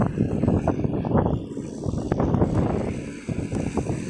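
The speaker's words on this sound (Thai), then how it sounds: "ฝนมาแล้วครับ ลมแรงมาก" Strong wind gusts roar and buffet close to the microphone with rain, rising and falling in a rough, rumbling rush over a few seconds outdoors in stormy weather.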